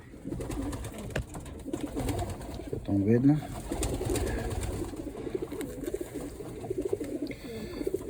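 Pigeons coo in a low, throaty burst around the handling of a pigeon chick being readied for leg banding, mostly beneath steady conversation, with a few softer coos scattered elsewhere.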